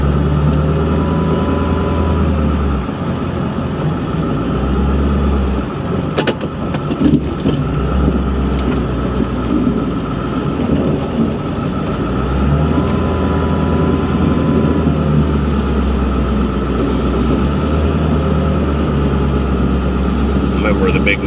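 A pickup truck fitted with a snowplow rolls through a snowy parking lot, its engine a steady low rumble with deep throbbing swells, a few clunks partway through, and people talking over it.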